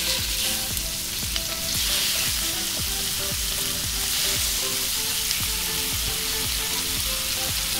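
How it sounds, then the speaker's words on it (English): Steak sizzling loudly as it fries in a pan, a bright continuous crackle close by with a rhythmic music beat underneath and no speech. "I'm putting now the steak."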